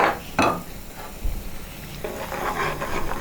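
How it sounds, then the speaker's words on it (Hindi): Milk stirred in a cooking pot for dahi baingan, a spoon scraping and swirling in steady, close strokes with a soft sizzling bubble underneath, no talking. "इसको तब तक हिलाना है जब तक इसके एक उबाल ना आ जाए"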